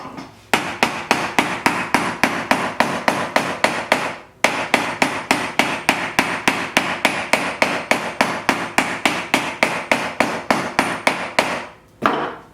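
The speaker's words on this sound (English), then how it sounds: "Hammer it down firmly." Rapid, steady hammer blows strike leather onto a boot last, dozens of sharp knocks in two long runs with a brief pause between.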